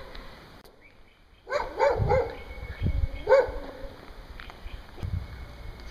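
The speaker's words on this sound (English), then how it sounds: "Oh great, stray dogs." Stray dogs bark at an abandoned amusement park: several sharp barks and yips in a cluster, fairly close, after a quiet start, followed by a few fainter barks against outdoor background noise.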